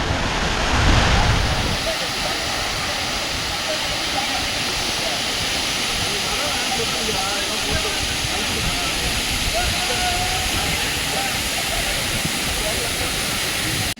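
The Aagaya Gangai waterfall in the Kolli Hills roars as a steady, loud broadband rush that holds throughout, with a brief burst of voices near the start.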